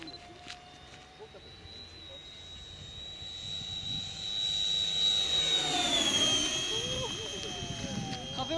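An M-346 jet flies overhead during landing practice, a rising whine and roar that swells past mid-clip and then fades, heard from the ground at a distance.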